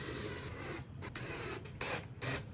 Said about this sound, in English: Now we need to countersink these holes so these heads sit flat.